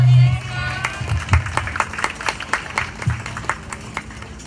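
An audience claps along in a steady rhythm at a YOSAKOI dance festival in Minamata, the claps fairly close and clear. A brief voice comes at the very start.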